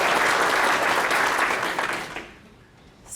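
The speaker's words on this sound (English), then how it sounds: "let's give us a big round of applause for all of you" Members of a chamber of commerce applaud at their annual meeting, a dense, loud round of clapping that fades out near the end.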